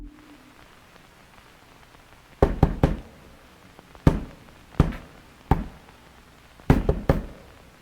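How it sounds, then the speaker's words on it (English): Knocks echo through a house as an SOS signal, sharp single and clustered raps spaced a second or so apart with short ringing tails, in an otherwise quiet space. "Knocking, an SOS signal, echoing through the house, vibrating across unknown miles of walls to reach them."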